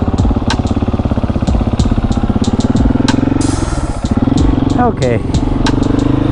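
A 701 motorcycle engine runs loud and close in first gear during wheelie practice, its pulsing rev rising and dipping. A person speaks briefly over the engine.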